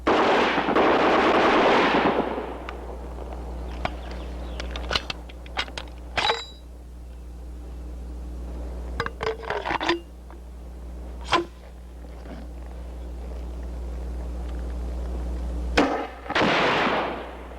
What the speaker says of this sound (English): The HK-69 grenade launcher is for firing 40mm explosive grenades.